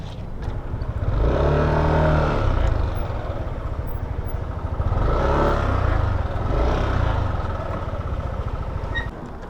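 Yamaha Aerox 155 scooter engine idling and being manoeuvred while parking, a steady close low rumble that swells twice with light throttle and then settles back.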